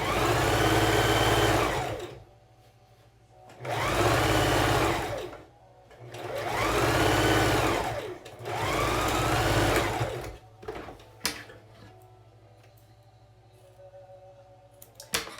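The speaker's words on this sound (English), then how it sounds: "1/4 inch all the way down across the top and bottom of the mask" A sewing machine runs a 1/4 inch seam across the top and bottom of a child's fabric face mask, in four loud, steady bursts of stitching with short pauses between, then fades to scattered handling clicks.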